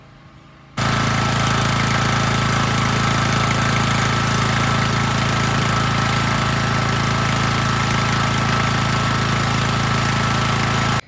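An old 1949 Farmall Model H tractor engine starts up and runs steadily, loud and close, with a rough, droning chug and no talking.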